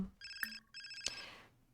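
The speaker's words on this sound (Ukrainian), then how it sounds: "Хтось телефонує, я здогадую, що це зі школи, тому ми брати не будемо" A phone ringing in The Sims 4 video game, a bright electronic ringtone in two short bursts with a brief gap between them, clear and alone with no talk.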